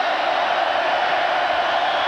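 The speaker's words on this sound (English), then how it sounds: "What a crowd going bananas." A basketball crowd of over 13,000 roars in St. John Arena during an Ohio State versus Indiana game, a steady, loud wash of massed voices with no breaks.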